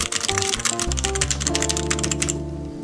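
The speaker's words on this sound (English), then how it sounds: "Then when I get involved as a touch typer..." Touch typing on an Aula F2088 Mac Edition mechanical keyboard: a fast, steady stream of crisp key clacks, close and loud, running continuously before stopping near the end, with a tonal backing of music underneath.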